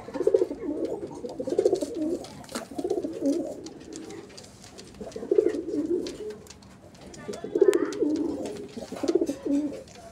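A male Nayra-headed pigeon coos close by in repeated low, throaty bursts spaced a couple of seconds apart, with faint background voices and market noise between calls.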